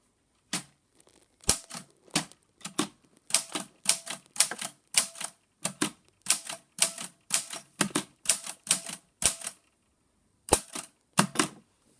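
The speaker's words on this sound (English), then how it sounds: "I'm going to type you a message on the typewriter. Listen to the sound it makes as I type." Crisp mechanical typewriter keystrokes clack in quick bursts with short pauses between, close and clear with no talking.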